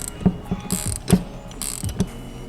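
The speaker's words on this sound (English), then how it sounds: "We can now reinstall the rebound washer and the locking nut." A rebound washer and locking nut go back onto an Air Lift strut being rebuilt: close metallic clicks and ratcheting taps in a loose rhythm, with brief scraping of metal parts between them.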